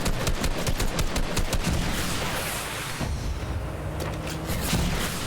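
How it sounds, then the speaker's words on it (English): Rapid bursts of gunfire crack out in a video game, dense volleys of shots, loud and sharp at first, then a brief lull before more firing resumes. "someone's shooting over there"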